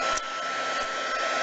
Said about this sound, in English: I prefer my heat tool.